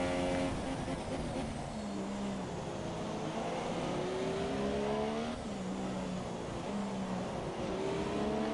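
Formula 1 race car engine from the F1 2017 video game at the British round, a steady high-pitched whine rising and falling through gear changes, continuous and fairly loud over a constant background roar.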